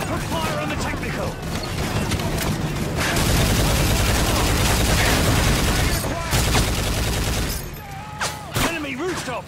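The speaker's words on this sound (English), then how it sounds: "Yuri, man the 50 cannon, lay down cover fire!" A mounted .50 cannon in Modern Warfare 3 laying down cover fire, sustained loud bursts of heavy gunfire with booming impacts, close up, with shouted voices over the din.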